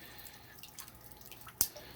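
Water dripping from a large clump of Java fern lifted out of an office aquarium, a few soft drips followed by one sharp, louder drop near the end.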